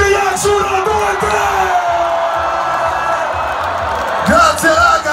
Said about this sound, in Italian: il calore del Salento sotto forma di urlo